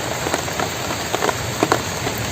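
Steady rain falls during the daytime, a dense, even patter with a few louder drops ticking through it. No voices are heard.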